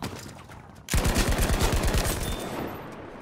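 A Type 97 machine gun fires in Battlefield 5, a sudden loud sustained burst of rapid, evenly spaced shots following a brief quiet lead-in.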